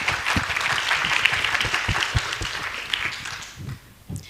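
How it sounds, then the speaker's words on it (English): An audience at an international relations seminar applauds steadily for the next speaker, a dense wash of clapping with a few louder hand claps, fading near the end. "give your biggest applause for Mr."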